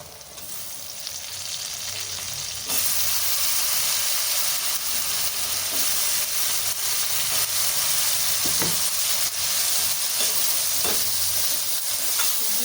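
Brinjal pieces fry in a little oil over a low flame, a broad steady sizzle that jumps louder after a few seconds as the vegetables hit the pan, with occasional soft stirring scrapes.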